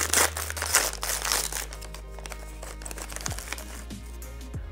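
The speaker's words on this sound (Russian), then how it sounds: "В коробке я нашла один хрустящий пакетик." A crisp plastic packet from a doll unboxing crinkles and rustles close up, with denser crackling at first and then lighter, scattered crinkles over a steady low hum.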